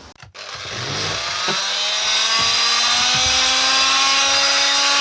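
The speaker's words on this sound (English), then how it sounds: "Just cutting a few notches out for where the pipes and things go." A power tool starts with a few clunks, then whines up to a loud, steady high-pitched run while cutting notches into wooden skirting boards for pipes on a narrowboat.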